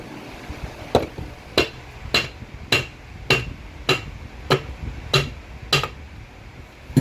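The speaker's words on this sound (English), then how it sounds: "try to separate the tail from the main case" Sharp, evenly spaced knocks ring out about nine times over seven seconds as a T5 transmission's tail housing is worked loose from its main case, each strike close and distinct over a low shop hum.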